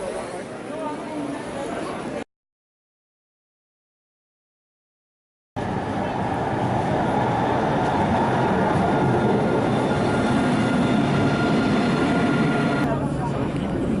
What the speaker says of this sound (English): First we're going to take the tram across the Rhine